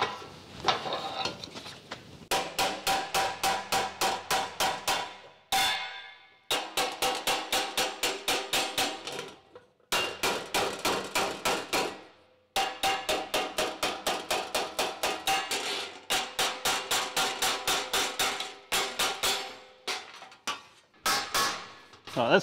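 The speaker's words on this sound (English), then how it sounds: "So I need to open these up a bit with the hammer and dolly, or just the hammer" Rapid metallic hammer blows ring out in quick rhythmic bursts as a hammer and dolly work sheet metal on a custom tailgate, loud and close, with short pauses between runs of strikes.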